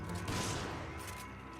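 Burst of gunfire in Resident Evil 5 co-op play, a loud rapid fusillade of shots filling the moment with no talk over it.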